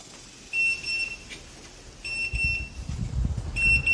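A high electronic alarm from an Inkbird Mini INT-11I-B cooking thermometer beeps at a 165 target temperature in three short repeated bursts, each a cluster of rapid pips, with soft handling rumble in between.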